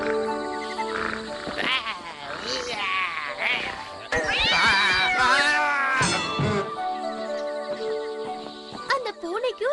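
A cartoon cat in a Tamil animated story meows several times, the calls rising and falling over music and effects, with voices speaking in places.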